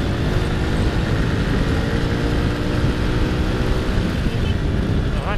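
Engine of a 2004 Honda Supra Fit 100cc clutchless motorcycle speeding, a loud continuous drone with steady wind rush and no pauses.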